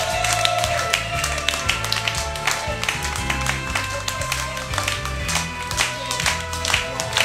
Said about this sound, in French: je vous demande de faire un tonnerre d'applaudissements pour le numéro 1